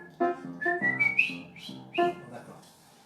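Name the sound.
audience whistling a song tune together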